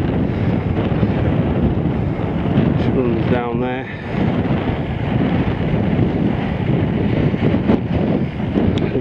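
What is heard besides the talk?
strong wind on Coniston Old Man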